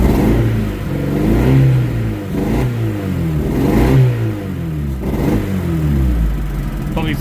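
MG two-seater sports car engine, started after sitting for five years, revving repeatedly in rising and falling surges with an idle between, close and loud, with no talking.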